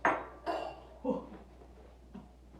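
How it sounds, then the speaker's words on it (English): Cocktail ingredients stirred in a glass: a few faint clinks of a spoon against the glass, spaced irregularly and quiet. "I'm going to give mine a little stir to make sure all those ingredients"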